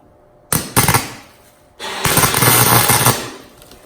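Welding on a Christine diecast model car in a cold garage: a few sharp crackling bursts, a pause, then a loud, sustained harsh hiss that fades out.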